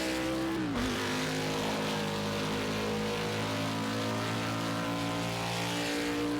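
A NASCAR race car engine in the Project Cars 2 game at Watkins Glen drones steadily and loudly, pitch dipping briefly as if shifting or braking, then holding a sustained tone under faint background noise.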